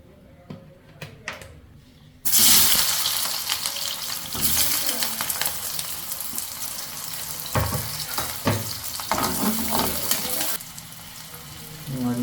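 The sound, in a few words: onions frying in oil while being stirred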